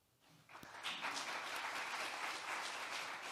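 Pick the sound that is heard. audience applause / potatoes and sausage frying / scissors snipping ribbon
audience applause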